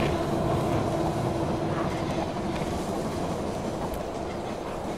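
A train pulling into a station in the strategy game They Are Billions, with a steady, loud rumble and clickety-clack of wheels on rails throughout, slowly easing toward the end.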